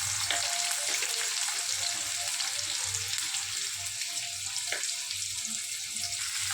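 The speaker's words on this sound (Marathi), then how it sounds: "आता कांदा कापल्याला घालून घेऊया कढईत।" Chopped onion frying in hot oil in a kadhai, a steady broadband sizzle running the whole time with faint low knocks and scrapes underneath, no voices.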